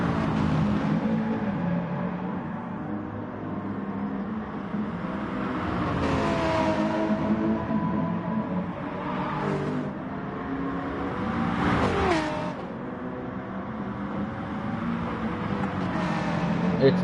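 GT4 race cars, a Mercedes SLS and a BMW M4, run bumper to bumper at Brands Hatch, engines droning loud and steady with rising revs and gear-change swells as they pass close.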